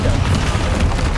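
A heavy, booming slam from the Descendo spell in Hogwarts Legacy, short and loud with splintering, crunchy debris in a dense low rumble.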